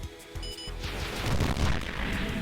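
Swarm missile explosions in the video game Sky Rogue make a rolling rumble of overlapping booms that swells midway and stays loud to the end.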